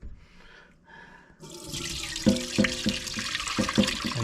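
Homemade chicken stock pours steadily from a stockpot into a strainer after a few quiet moments, with rhythmic metallic clinks and splashing as the flow continues.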